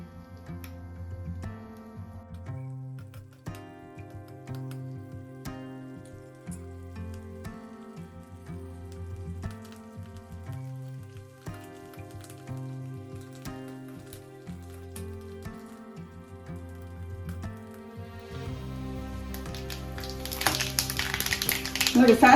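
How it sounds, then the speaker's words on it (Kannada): Mustard seeds splutter in hot oil as the tempering for an okra gojju begins. Background music plays throughout, and crackling pops swell loudly and densely in the final few seconds. "ನೋಡಿ ಸಾಸಿವೆ ಸಿಡಿದ ನಂತರ"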